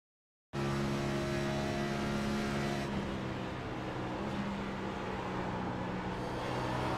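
A race car at Pocono Raceway powering out of a corner loose, driven off the right rear tire, its engine a loud, sustained roar that starts abruptly and holds throughout, close and alone.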